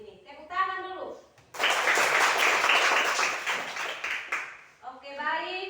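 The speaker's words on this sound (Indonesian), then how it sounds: "Tepuk tangan dulu." Children in a Year 5 classroom clap their hands together in a burst of applause lasting about two and a half seconds, with young voices speaking before and after.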